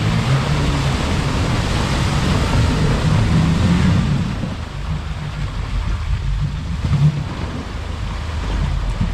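An off-road car plows through deep water sunk up to its headlights, with air drawn in through a snorkel over the hood: a loud, close, continuous roar of churning, splashing water over engine rumble that eases slightly partway through.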